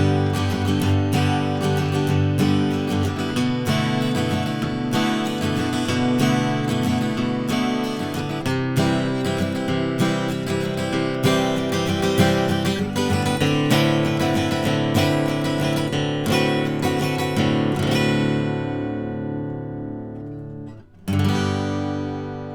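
Guitar playing the Great Sea theme from Zelda: Wind Waker, strummed chords ringing out continuously and loud for about twenty seconds before a brief pause and one last struck chord, with no talking.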